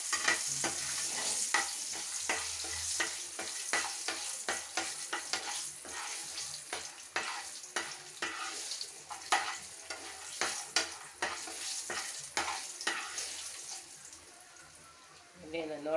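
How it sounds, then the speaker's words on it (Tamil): Dried berries (vathal) fry lightly in a pan for a kuzhambu, giving a steady crackling sizzle broken by frequent sharp scraping and clicking stirs close by. No one speaks. "லைட்டாக வறுத்துக்கலாம்."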